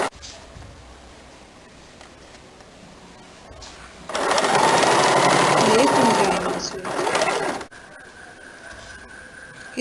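A sewing machine hums in one steady burst of several seconds as bias strips for a blouse neckline are stitched, with a quieter room and a voice before and after.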